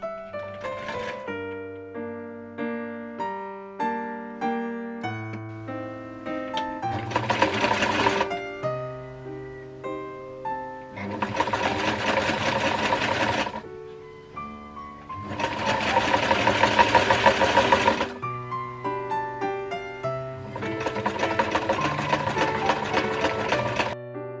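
A vintage sewing machine stitches in several sustained bursts of rapid mechanical whirring, each run lasting a few seconds, layered over steady background music with no talking.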